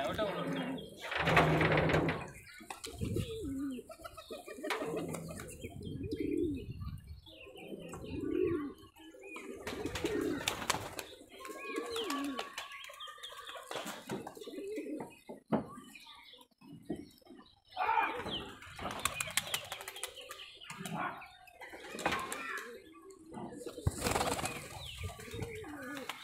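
Rajshahi local Geribaj pigeons coo and flap their wings close by, with soft repeated calls and bursts of wingbeats under steady conversation among several men.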